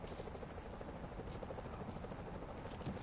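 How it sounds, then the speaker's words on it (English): A constant rotor chop and engine roar from a helicopter in the video game Call of Duty Modern Warfare Remastered fills the whole stretch, steady and moderately loud, like a helicopter hovering nearby. "Incoming helicopter!"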